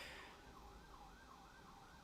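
An ambulance siren wails in a repeating rising-and-falling pattern, fairly faint and distant, with low road rumble beneath and no voices.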